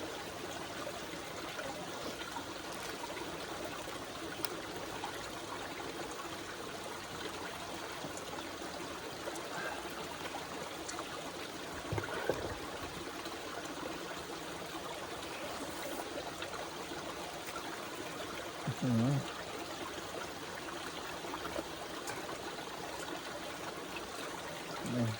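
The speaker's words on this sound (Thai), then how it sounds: "เราได้ยินเสียงน้ำไหลตลอดเวลาด้วย" A forest stream flows continuously at a campsite in the woods, a soft, steady trickling wash heard faintly and evenly throughout, with no voices and only a couple of small knocks of movement nearby.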